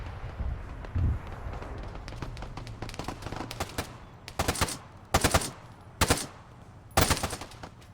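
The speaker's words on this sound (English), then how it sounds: "These guys are getting shot from the side here." Gunfire in the military video game Arma 3 crackles across the battlefield, with scattered distant shots early on and then several loud, sharp bursts of automatic fire at regular intervals.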